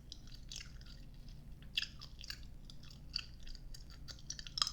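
Chewing gum close to the mic in an ASMR setting, with wet, sticky clicks and squishes coming in an irregular rhythm, soft but intimate and heard alone without speech.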